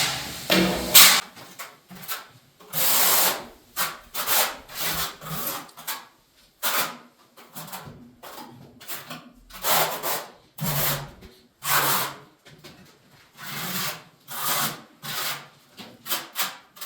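A trowel scrapes thinset mortar across the back of a large format floor tile, heard as repeated short rubbing strokes in an uneven rhythm, close and fairly loud with quiet gaps between passes.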